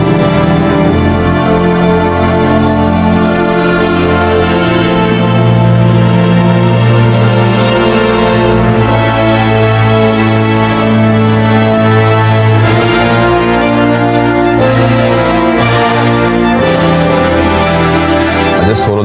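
A loud orchestral track opens an action film, with strings and deep sustained low notes building steadily and shifting chords throughout. The music is dense, close and continuous, and no one speaks.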